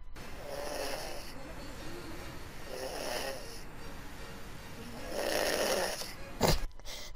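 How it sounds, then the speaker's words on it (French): A person snoring, played back from a recording: slow, rasping breaths repeating in a regular rhythm, fairly faint, with a brief louder snort near the end. "Donc c'est quelqu'un qui ronfle"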